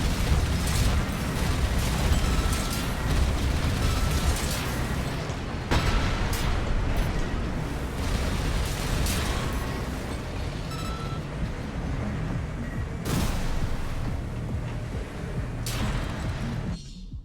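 Gatling gun fire in the mech game Armored Core 6, a loud, dense, continuous roar of rapid shots and booming impacts that fills the whole stretch with scattered sharper bursts.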